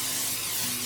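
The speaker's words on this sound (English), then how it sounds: "I'm gonna spray it with a little bit of cooking spray." Cooking spray hisses in one brief, steady burst onto a silicone loaf pan, a close and fairly loud spray with no talking over it.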